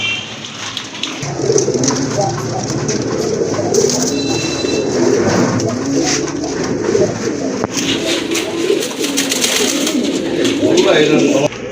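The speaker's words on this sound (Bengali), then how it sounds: "আরেক জোড়া কবুতর দেখতে পাচ্ছেন এখানে" Pigeons coo in low, throaty bursts close by, over a steady rustling background with some scattered higher chirps.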